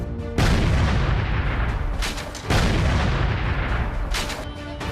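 Heavy gunfire and a loud blast ring out during an army encounter with LeT militants in Pampore, Jammu and Kashmir, with dense, continuous booming bursts that surge twice at full strength and then ease slightly.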